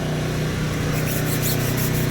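Steady close-up rubbing and brushing on a trailer tire during detailing, a continuous scrubbing rasp with a low hum underneath and no pauses.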